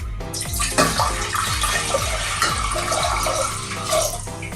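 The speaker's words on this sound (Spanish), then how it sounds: "en esta olla voy a agregar lo que es el agua en total destilada" Distilled water poured into a cooking pot while preparing a homemade hair cream, a steady splashing pour running for several seconds, close and fairly loud, with no talking over it.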